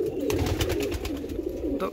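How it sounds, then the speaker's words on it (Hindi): A millet-coloured domestic pigeon in a home loft coos in a low, throaty, steady rumble, close and fairly loud, continuing without pause for the whole stretch. "एक ही मेरा बाजरा कबूतर है"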